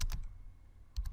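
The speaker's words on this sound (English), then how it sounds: "here you can open a command prompt, and then you type Jupyter" Brief computer keyboard typing of a command into a command prompt: a quick cluster of keystrokes, a short pause, then another burst of clicks, close and fairly crisp.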